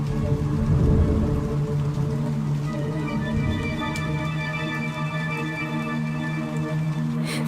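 Heavy cartoon rainstorm: a dense, steady hiss of pouring rain with a low rumbling undertone, continuous and fairly loud, with a brief crackling burst near the end.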